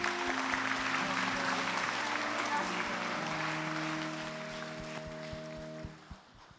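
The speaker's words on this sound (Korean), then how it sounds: "우리 신혼부부 박수로 축복하시겠습니다." A church congregation at a Sunday service claps for newlyweds, with steady clapping that slowly fades over several seconds while sustained organ or keyboard tones play underneath and end with a few soft knocks.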